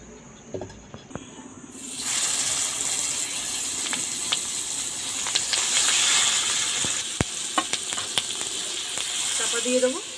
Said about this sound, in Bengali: বাকিগুলো আমি এবার ভেজে নেবো